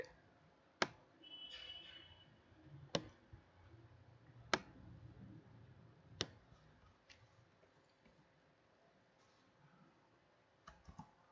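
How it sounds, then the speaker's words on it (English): Keys on a computer keyboard are pressed, with several sharp, separate clicks of the enter key spaced a couple of seconds apart over a quiet background, faint and close. "I am clicking the enter button from the keyboard"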